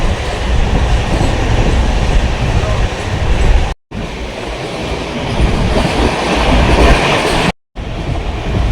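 Duronto Express heard from inside a sleeper-class coach, a loud continuous rumble and clatter of wheels on rails that carries on without a break, with two short cut-outs.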